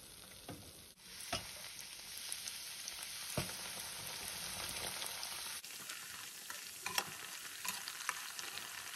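Bread slices for double ka meetha fry in hot oil with a steady, close sizzle, broken by occasional sharp clicks and taps, and no voices over it.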